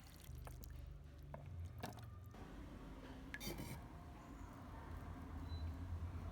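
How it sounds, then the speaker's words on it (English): Ginger and baking soda water strained through a sieve: faint, close liquid pouring and trickling, with a few small drips and squishy splashes, quiet throughout. "filter the ginger and baking soda through a sieve"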